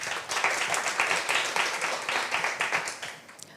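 Audience applause at a startup pitch day, a moderate spread of clapping that swells and dips steadily for a few seconds, somewhat distant and fading slightly at the end.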